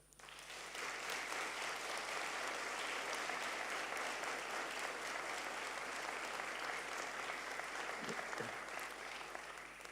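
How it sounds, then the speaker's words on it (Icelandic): Graduation ceremony audience at a school clapping for the teachers, a broad sustained round of applause lasting the whole stretch, fairly even and loud. "mig langar til að biðja ykkur að klappa fyrir kennurunum okkar"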